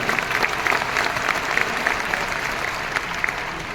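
An audience claps steadily and loudly, a dense wash of applause that holds throughout with no talking over it.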